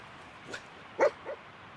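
Dogmeat, the dog companion in Fallout 4, gives a few short barks: a faint yip, then a louder sharp bark and a softer follow-up, set against a quiet game background.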